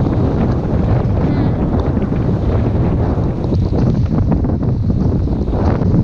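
Strong wind of about 25 knots roars steadily over a sailboat at sea, a dense unbroken rush of noise buffeting the microphone throughout.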